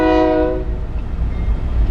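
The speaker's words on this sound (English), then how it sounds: "And here comes the train." A train passes nearby, its horn sounding loud and sustained for the first half second before fading into a heavy rolling rumble of rail cars.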